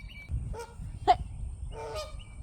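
A goose gives three short, separate honks at close range over low background rumble.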